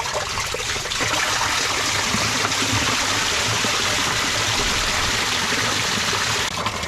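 Water runs back into a pondless waterfall basin after the pumps are shut off, a steady close rushing and trickling flow that continues throughout.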